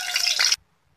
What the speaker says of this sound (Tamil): தேவையான எண்ணெய் ஊற்றிக்கலாம்.